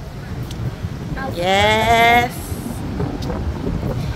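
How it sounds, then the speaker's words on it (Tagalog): Wind buffets a microphone outdoors on a breezy, overcast day in a London street, giving a steady low rumble, while a person speaks briefly over it. "Guys, ang hangin."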